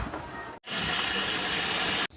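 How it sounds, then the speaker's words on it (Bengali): Half a cup of water poured into a pot for Bangladeshi haleem, two steady gushing pours separated by a short break, fairly soft and close, no talking. "হাফ কাপ পানি দিলাম।"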